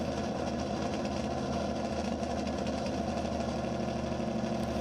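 At El Mirage dry lake racing, a 1932 Ford Coupe gas altered with a 408 cubic inch V8 runs steadily, a continuous moderately loud rumbling idle with no talking.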